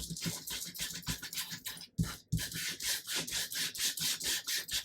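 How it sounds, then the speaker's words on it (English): Sandpaper rubs back and forth across vintage book paper on a mat, a close, dry rasping stroke repeated in a steady rhythm with a brief pause partway through. "I need my little mat and to use my sandpaper"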